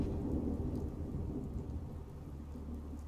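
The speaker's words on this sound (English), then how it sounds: "I hear thunder." Thunderstorm with steady rain in the video game Fallout 4, a low rolling thunder rumble under continuous rainfall, loud at first and easing slightly, with no one speaking.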